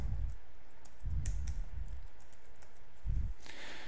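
Java code being typed on a computer keyboard: soft keystrokes and clicks close by, in short bursts with dull low thumps between them, heard alone without talk.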